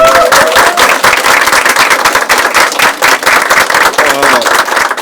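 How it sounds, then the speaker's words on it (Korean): Loud, dense crowd applause fills a political rally where a candidate announces a party leadership bid amid cheering young supporters, sustained rapid clapping throughout with a voice briefly cutting through near the start and end. "박수 한번 쳐주십시오"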